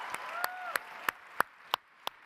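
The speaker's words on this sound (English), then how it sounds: "Clap if you're having a great time at the 2025 NEA Leadership Summit." About seven separate hand claps ring out one at a time from a small part of the audience at the 2025 NEA Leadership Summit, spaced unevenly over a faint room background.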